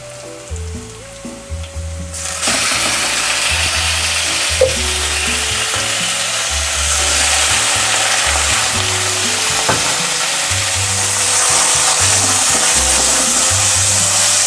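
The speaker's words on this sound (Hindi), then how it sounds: "तो ये देखिए ऑयल हमारा गर्म हो जाए तो फिर अब हमने इसमें अदरक लहसुन डाल देना है। अदरक लहसुन को मैंने बिल्कुल फाइन चॉप कर लिया था। अब मैं इसमें चिकन डाल दूंगी।" Chicken pieces with finely chopped ginger and garlic frying in hot oil, a loud steady sizzle that swells after about two seconds and holds, with occasional stirring clatter and faint background music.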